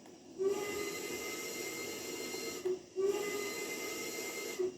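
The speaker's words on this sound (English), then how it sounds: "let's blow our whistle" A passenger train in a train game lets out two long, shrill steam whistle blasts with a hissing edge, separated by a brief pause, over a constant steam hiss and no talking.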